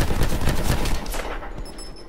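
Rapid gunfire from Call of Duty: Black Ops 4 multiplayer, loud close bursts of shots in quick succession for about a second before tapering into fainter echoing pops.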